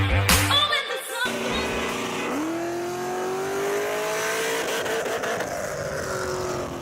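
A 6.2-liter 402-horsepower V8 in a Pontiac G8 GXP with a six-speed manual, inside Forza Motorsport 7, revs up and climbs steadily through a long pull, loud and continuous after a brief burst of other sound at the start.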